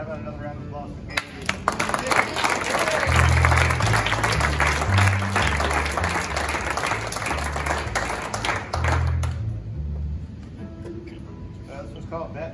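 A concert audience at City Winery in Philadelphia gives a round of applause that swells after a second and holds loud and dense for about eight seconds before fading back.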